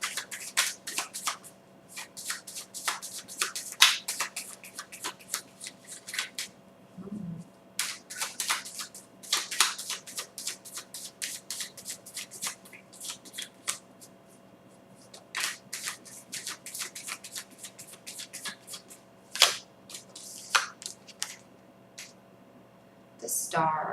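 Tarot and angel cards shuffled in repeated bursts of riffling and flicking, close and fairly crisp, broken by short pauses and an occasional soft thump.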